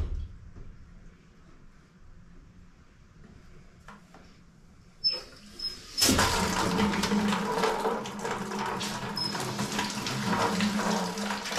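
Quiet faint noises, then a sudden strong rush of spraying water that continues steadily, close by, like a hose wetting a wall around a hole before hydraulic concrete is applied.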